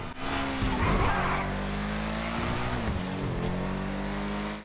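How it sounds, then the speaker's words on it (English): The Ocelot Lynx sports car in GTA 5 Online revs loudly near at hand, its engine note rising and falling through shifts while tires squeal in a long skid, all continuous and without voices. "the sound the car makes is somehow worse"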